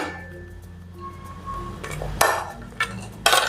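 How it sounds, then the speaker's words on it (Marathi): Metal spoon clinks and scrapes against a bowl while turmeric pickle ingredients are mixed, a few sharp clatters over a low background hum, close and with no talking. "आता याच्यामध्ये सगळं आपण मिक्स करून घेऊ"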